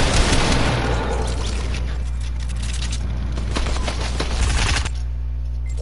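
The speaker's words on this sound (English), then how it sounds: "Drum gun against drum gun." Rapid drum gun fire in a video game rattles in a dense, steady stream of shots over a heavy low rumble, cutting off abruptly near the end.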